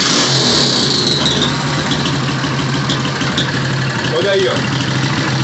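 A Honda Strada motorcycle running on alcohol after carburetor tuning idles low and even, a steady close engine hum with no surging, while someone talks over it.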